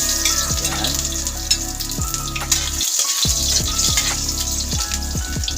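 Ginger sizzles steadily in hot oil in a pan, the first step of ginataang labong with bamboo shoots, with occasional soft clinks and stirring over the continuous close frying hiss.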